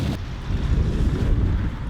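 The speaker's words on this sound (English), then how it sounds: "It is really windy." Strong wind gusts at the top of a mountain, buffeting the microphone in a loud, continuous roar with no pauses.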